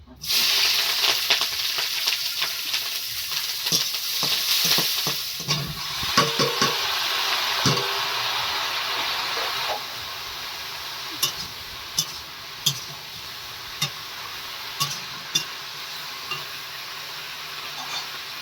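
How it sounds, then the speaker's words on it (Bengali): Chopped onion, green chili and garlic frying in a hot wok, a steady bright sizzle with occasional scraping stirs and light clicks of a spatula, close and loud throughout, no voices. "কড়াই দিয়ে দিচ্ছি পেঁয়াজ, কাঁচা লঙ্কা, রসুন কুচি"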